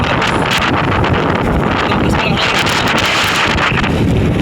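Typhoon wind roars continuously into the microphone in Masbate, Philippines, a loud, buffeting rush that barely lets up.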